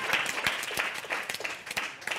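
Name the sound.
applause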